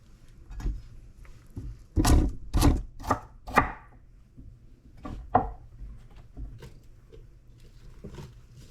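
A knife rough-chopping a piece of fresh ginger on a cutting board, several sharp thuddy chops clustered together, then a few lighter scattered cuts, close and clear with no talk.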